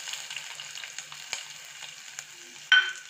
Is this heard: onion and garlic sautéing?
yes